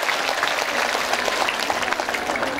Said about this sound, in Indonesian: Tepuk tangan untuk masyarakat Kecamatan Gundur